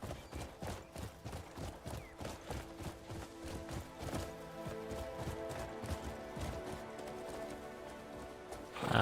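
Horse hooves clip-clop in a steady, brisk rhythm in the Crimson Desert video game, loud and close, with layered in-game ambience and a rising swell at the end.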